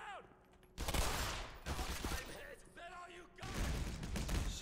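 Heavy gunfire in the Black Mesa video game, with loud broadband blasts starting around one second and continuing in bursts through the clip, mixed with game voices and effects.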